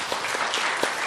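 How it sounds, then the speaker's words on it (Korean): A Korean church congregation claps together for one another, a dense broadband patter with a few sharper hand-claps standing out, fairly close and steady through a brief burst. "옆에 사람 박수를 좀 쳐드리세요."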